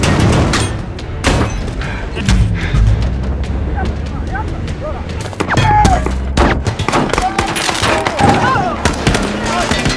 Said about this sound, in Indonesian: Sambil menghadapi tembakan senjata api yang hebat dan hanya dapat mereka tahan dengan mobil anti peluru mereka.